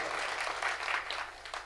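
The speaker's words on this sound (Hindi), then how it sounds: "ताली आपने गलत जगह बजाई है" Faint, brief clapping rises from the audience at a Hindi comedy poetry gathering, sitting well back in the room and tapering off at the end.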